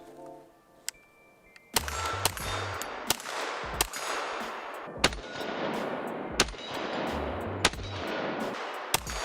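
A Kriss Vector firearm fitted with a folding stock adapter and a new magazine fires a series of sharp, loud shots at irregular intervals, about a dozen cracks close up, each followed by a short ringing tail.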